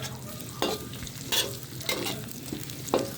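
Carrots sauté in a pot for patola soup with meatballs, a soft steady sizzle broken by a few stirring scrapes, close and fairly quiet with no talking.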